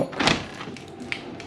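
A door in a DIY-built utility room being locked and unlocked, giving a fairly loud thunk of the bolt early on, then quieter mechanism clicks and a small sharp click near the end.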